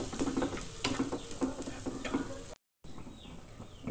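Spice powders are stirred and fried in a pan for a coconut-milk fish curry, with soft rhythmic scraping strokes over a gentle sizzle, broken by a short silent gap.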